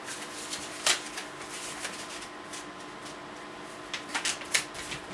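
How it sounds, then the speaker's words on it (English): Paper being folded into an origami crane, with soft crisp rustles and a few sharp crinkling creases scattered over several quiet seconds, close up, with no talking. "Fold it that way."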